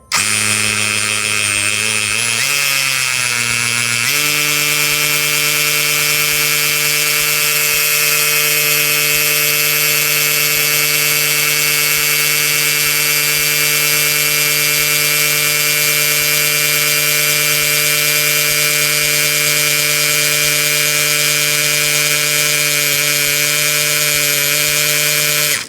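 A Dongcheng DCJZ2060i brushless hammer drill drills continuously and loudly. A brief rising spin-up settles into a steady, high-pitched motor whine that runs unbroken to the end.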